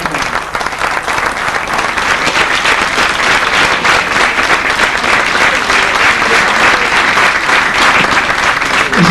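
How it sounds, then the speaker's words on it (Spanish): An award ceremony audience applauds loudly and continuously, a dense wash of many hands clapping that holds steady for several seconds without a break. "Un aplauso para él."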